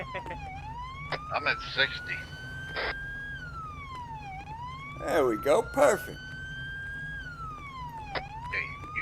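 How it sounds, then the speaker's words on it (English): Police car siren in a video game wailing in long rising and falling sweeps throughout, with people talking over it in short bursts. "you can turn the siren off"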